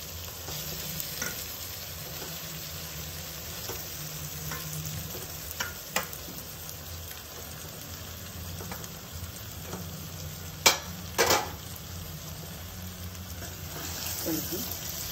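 Stuffed brinjal curry with tamarind paste being stirred in a pan, a steady low sizzle with scraping strokes and a couple of louder clatters near the end, faint voice in the background.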